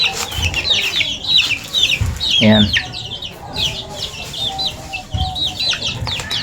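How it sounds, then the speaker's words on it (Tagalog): Sweater-breed chicks and young chickens, about a month old, peep and cluck continuously at close range. Occasional brief wing flaps are heard, and someone speaks softly over them. "Ito yung sisiw sa sweater ko na manok."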